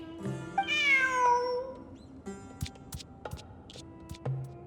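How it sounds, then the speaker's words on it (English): A cat meows in the video game Genshin Impact, one clear rising-then-falling meow up front, followed by soft clicks and light taps over quiet game ambience. "Who's a good kitty?"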